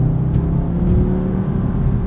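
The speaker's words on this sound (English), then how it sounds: "Engine sounds great." Audi S3 2022 engine running under load while driving on winter tires, a steady low drone with a faint whir, fairly loud and continuous, no voices.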